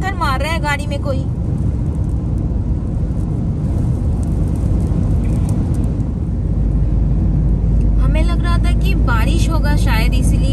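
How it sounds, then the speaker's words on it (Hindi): Steady roaring wind with a dense, gritty rush of sand pelting a car like thrown stones, loud and continuous; people talk briefly at the start and near the end. "पता है आवाज कैसे आ रहा है, जैसे पत्थर मार रहा है गाड़ी में कोई"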